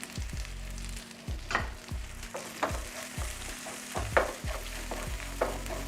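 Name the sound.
sautéing onion and cumin with asafoetida in pan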